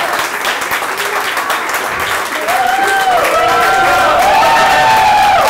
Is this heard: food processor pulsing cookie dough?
no